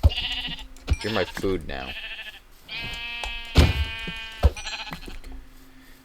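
Several sheep bleat in short wavering calls, some overlapping, while someone speaks over them in a game-like setting.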